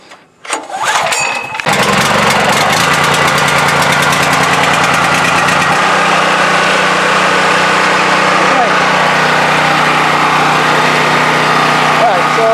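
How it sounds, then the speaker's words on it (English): A gas-powered portable generator starts after a brief cranking sputter, then runs loud and steady close by, a constant buzzing engine drone with occasional faint voices beneath it. "Alright, so you hear the generator running."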